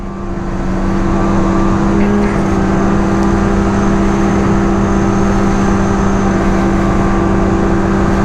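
Loud, steady high-revving drone of an Assault 850 snowmobile engine pulling hard under acceleration, ramping up in the first second and then holding a sustained roar.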